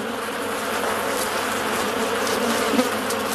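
Dense, continuous buzzing of many bees swarming close by as a honey badger raids their nest, steady and loud throughout with no talking.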